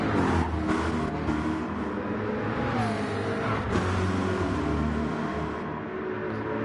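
A McLaren GT3 race car roars around Mount Panorama in a sim racing game, its engine a loud, continuous high-rev drone with slight pitch bends through corners, close and unbroken throughout.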